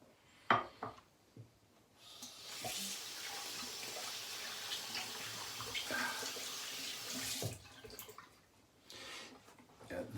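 A small splash of water poured into a shaving soap lathering bowl for Talbot Shaving's Holland Glen fougère soap, a soft running trickle lasting several seconds between quiet clicks and handling noises, close and fairly faint.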